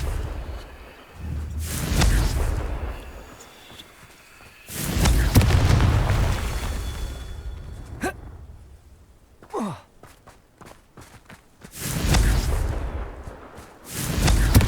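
Confringo fire spell blasts in Hogwarts Legacy: several heavy booming explosions come in bursts, each with a rumbling tail, separated by quieter stretches with a brief whoosh between them.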